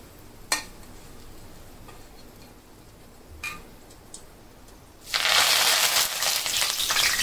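Curry leaves hit hot oil after chillies have been fried for a fasting-style chivda, bursting into a loud, sustained crackling sizzle that follows a few earlier faint clicks and taps of utensils.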